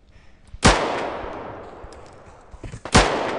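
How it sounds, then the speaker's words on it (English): Two loud, close gunshots from impact rounds in the video game Deadside boom about two seconds apart, each followed by a long decaying echo. "impact rounds all around me"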